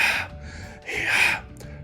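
A voice imitates a monster's panting during a children's read-aloud, two loud breathy gasping pants, each a rough airy burst, close to the microphone with a short pause between.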